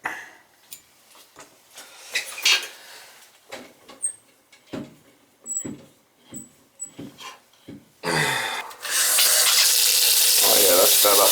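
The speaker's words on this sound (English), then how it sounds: "Turn the water back on and we'll check it." After scattered knocks and handling noises, a repaired handicap sink faucet is turned on and water gushes steadily and loudly for the last few seconds, close and continuous.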